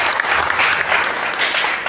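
Audience breaking into steady, loud applause at a public gathering, a dense wash of many hands clapping close by with no pause for nearly two seconds.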